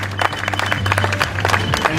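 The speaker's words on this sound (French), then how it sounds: "on peut l'applaudir comme il se doit" A crowd applauds a runner finishing a nature trail race, with rapid, uneven clapping over a steady low hum from a public address system, and voices mixed into the noise.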